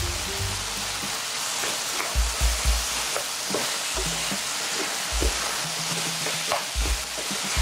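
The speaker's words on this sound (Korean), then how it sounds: "감자를 살짝 볶으시다가 고추장 한 숟가락 넣어줍니다." Potatoes and pork sizzle and fry in a pan with gochujang while being stirred, with irregular scraping and clacking of the utensil over a steady frying hiss; no one talks.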